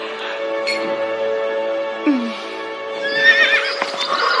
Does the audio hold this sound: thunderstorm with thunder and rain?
no